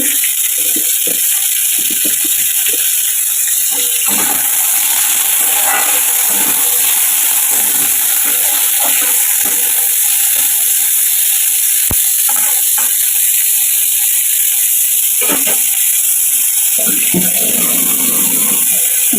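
Garlic and onion fry in a pan for a taro-leaf dish, giving a loud, continuous sizzle with intermittent scrapes and stirring knocks close by.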